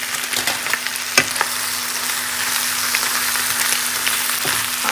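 Egg and sausage frying in a pan for a simple breakfast, a loud, close, steady sizzle with a few scraping stir sounds near the start.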